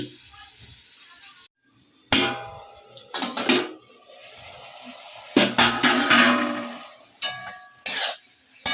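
A pot of bathua greens and beans is covered with a lid over low gas, with a few metallic clanks and scrapes under intermittent talk.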